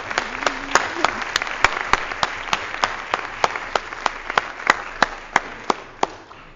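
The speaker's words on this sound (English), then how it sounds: "I want to give him a round of applause" Audience applause at a 2011 law school alumni awards ceremony: steady dense clapping from a crowd, with sharp individual claps standing out in a regular rhythm, fairly loud and continuing throughout without talk.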